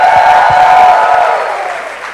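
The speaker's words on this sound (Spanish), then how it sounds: "damos el mejor aplauso al Padre, al Hijo y al Espíritu Santo de Dios" A church congregation applauds and cheers in a loud, close, dense roar of clapping and voices that gradually fades over a couple of seconds.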